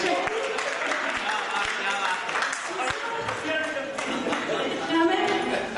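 An audience at a Hindi poetry gathering applauds, a dense, sustained patter of many hands clapping at moderate distance that fills the whole stretch with little variation.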